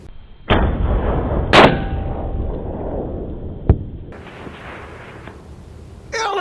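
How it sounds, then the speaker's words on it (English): A Mauser 30-06 sporter rifle fires a 190-grain round at a long-range target, a heavy boom followed by a sharp crack and a lingering rumble, then a fainter distant impact and another burst of noise at the end. "Let's see if I can duplicate that same shot."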